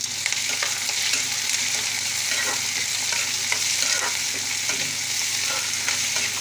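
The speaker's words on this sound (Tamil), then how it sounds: "வெங்காயம், கருவேப்பிலை அதை நம்ம இதில் போட்டுக்கலாம்." Onions and curry leaves sauté in a pan for a South Indian chicken gravy, a steady bright sizzle and frying hiss with occasional stirring scrapes, close and continuous.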